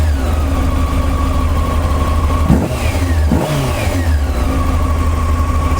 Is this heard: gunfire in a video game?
no